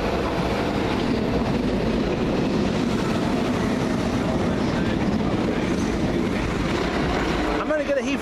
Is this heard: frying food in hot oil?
no